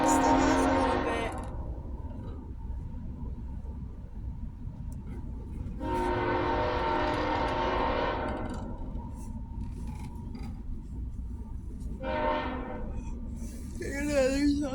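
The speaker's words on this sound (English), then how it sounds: "That's train. It passes by almost every 15 minutes." A train passes close by a house, its long harmonic horn blasts sounding loud three times, rising and fading against a steady low rumble of rail traffic that continues throughout.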